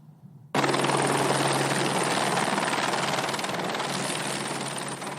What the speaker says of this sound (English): The LA County Sheriff's Department helicopter landing at UCI Medical Center in Orange